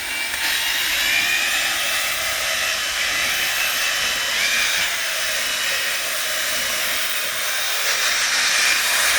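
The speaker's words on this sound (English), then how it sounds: "We're going to spray on." All-in-one cleaner sprays onto a boat in a continuous, loud, hissing rush that holds steady for several seconds without a break, with no talk over it.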